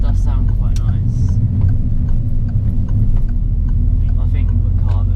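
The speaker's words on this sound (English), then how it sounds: "You can just get the car to sort of burble." A car engine idles with a low, uneven burble, steady and close, while people talk over it inside the cabin.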